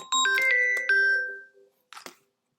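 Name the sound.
mobile phone ringing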